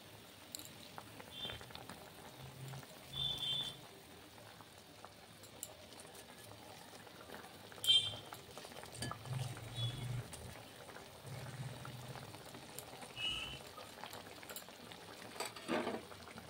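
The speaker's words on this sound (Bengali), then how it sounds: "খুব সুন্দরভাবে একদম মাছের ঝোলটা যে ফুটে উঠেছে" Fish curry simmering in a pot, heard as soft, faint bubbling and popping at a close distance, with a few scattered louder blips and clinks throughout.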